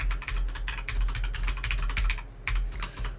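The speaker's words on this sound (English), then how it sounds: "So now I'm going to do a little bit of typing." Keys clack rapidly on a computer keyboard picked up by an NZXT Capsule cardioid USB microphone, with dense, irregular clicks in quick bursts and brief pauses, close and clear with no voices.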